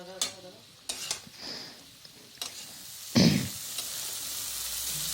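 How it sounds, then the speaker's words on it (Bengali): Spice masala for fish curry is stirred and fried in a pan, giving soft scraping strokes over a gentle sizzle, with one louder scrape near the end. "এখন আমি ভালো করে মশলাটা নাড়িয়ে নিচ্ছি"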